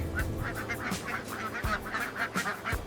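A dense flock of egg-laying ducks raised on a farm, honking and quacking continuously in overlapping calls, close and fairly loud with no voices.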